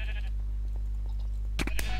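Sheep in Minecraft give two short, loud bleats near the end over a low constant hum, with faint game noises earlier.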